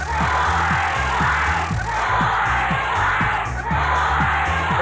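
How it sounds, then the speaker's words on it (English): Excited crowd cheering in the PC-88 video game Mirrors, a dense roar of synthesized noise over a repeating bouncy chiptune bass line, loud and continuous. "The crowd's excited, but it's all under control."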